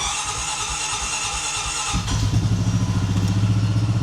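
A Honda Pioneer 520 compact UTV engine starts up at about the two-second mark and settles into a loud, close, throbbing idle, after a stretch of steady background hum.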